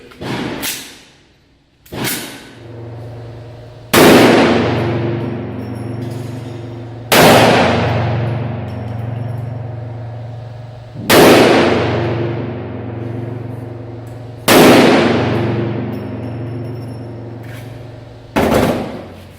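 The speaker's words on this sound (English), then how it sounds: "Let's set this up, make some noise. Let's go shoot stuff." Shots at an outdoor shooting range with a .50 caliber rifle and shotgun: about six loud, sharp reports spaced a few seconds apart, each followed by a long ringing decay and low rumble, with no talking.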